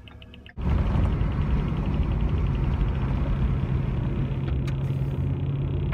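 A Ford F250 truck pulls onto the highway, and a steady, loud rumble of engine and road noise fills the cab after a brief quieter moment at the start.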